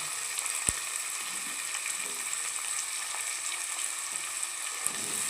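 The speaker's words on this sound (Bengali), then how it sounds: "সব কিছু একসঙ্গে ভেজে নেওয়া হবে।" Carrots and potatoes sizzle steadily in a frying pan, a constant hiss with an occasional sharp clink of a utensil, and no talking.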